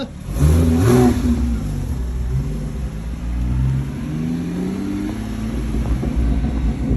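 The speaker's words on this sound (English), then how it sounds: "This car sounds so good." A car engine revs up sharply a few times, then settles into a deep, throaty idle rumble, close by.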